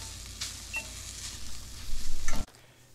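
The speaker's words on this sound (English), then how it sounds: "just give that fish a little stir" Fish for tacos frying in a pan and being stirred, a steady sizzle with a few scraping stir strokes that swell louder toward the end before cutting off abruptly.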